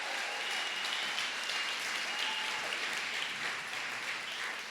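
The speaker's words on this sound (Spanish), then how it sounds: "queremos que reciba este aplauso fuertemente otra vez" A church congregation applauds first-time visitors with steady, sustained clapping that fills the room at an even level from start to finish.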